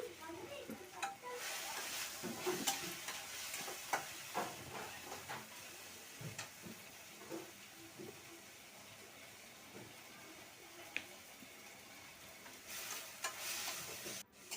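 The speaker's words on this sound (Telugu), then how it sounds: "కొత్తిమీర కూడా బాగా ఫ్రై చేసుకొని తీసుకుందాము గిన్నెలోకి" Coriander leaves frying in a pan, a steady hiss and sizzle with bursts of stirring and scraping throughout, fairly close and continuous.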